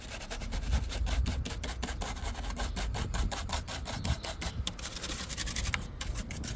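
A small thin screwdriver scrapes debris out of the windscreen cowl bay of a Ford Kuga 2.0 TDCi, making quiet, rapid scratching and ticking strokes in a steady run.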